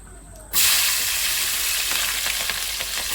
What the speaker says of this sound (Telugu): ఫస్ట్గా ఏం చేస్తానంటే పచ్చిమిరపకాయ ముక్కలు వేసేస్తానండి.